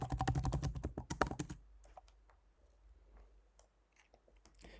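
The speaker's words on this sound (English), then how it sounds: "fill in your WordPress username just like that" Quick keystrokes on a computer keyboard while filling in a login name, a dense close burst of typing followed by a few scattered lighter taps.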